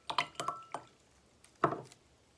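Peas plop into a cup of water one after another, a quick cluster of light splashy drips followed by a pause and another couple of drops.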